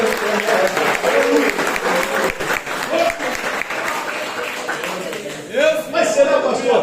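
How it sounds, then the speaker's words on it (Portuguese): A church congregation applauding during a sermon, sustained clapping from a crowded room blended with raised voices and talk running over it. "Você pode aplaudir o Senhor."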